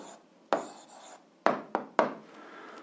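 A pen writes an answer on paper during an eighth-grade algebra lesson: a few sharp, close scratching strokes with short pauses between them, in a quiet room with no talking.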